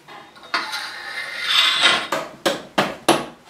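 Sharp metallic taps ring out as a Triumph Scrambler fork part is knocked off its end during a fork rebuild. A scraping, sliding stretch comes first, then three evenly spaced loud close raps.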